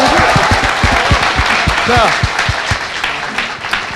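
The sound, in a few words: audience applause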